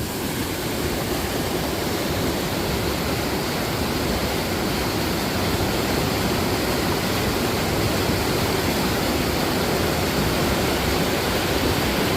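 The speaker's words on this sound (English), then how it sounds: "that water's moving." Loud, steady roar of a rushing river at Ohiopyle State Park, Pennsylvania, filling the whole clip without a break, dense and close, with no voices.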